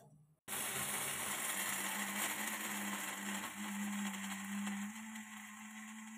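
A grinder whirs steadily and loudly, finely milling flax seeds, starting abruptly and running as a continuous high-pitched motor drone with the dry grinding of the seeds, no voices present.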